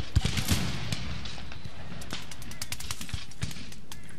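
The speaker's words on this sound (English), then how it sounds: "Let's keep firing." Musket volleys crackle in the Empire Total War battle game, a dense run of sharp overlapping gunshots strongest at the start, then scattered reports continuing over a steady roar of battlefield noise.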